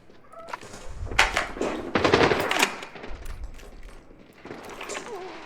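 Gunfire in the video game Arena Breakout Infinite comes in loud, rapid automatic bursts with a few single shots between them, over a quieter background.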